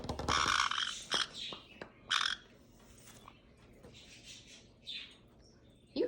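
A caique parrot lets out several sharp, squeaky chirps and calls in short bursts separated by pauses, close and fairly loud in a quiet room.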